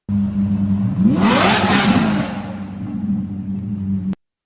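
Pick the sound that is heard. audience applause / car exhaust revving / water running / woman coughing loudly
car exhaust revving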